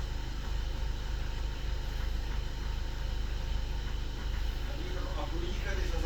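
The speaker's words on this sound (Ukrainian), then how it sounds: "моторчик робить рівно чисто гарно" A Skoda Octavia TDI diesel with about 188,000 km runs cold after a cold-start knock complaint, giving a steady, close, low-pitched rumble throughout, with some muffled talk over it.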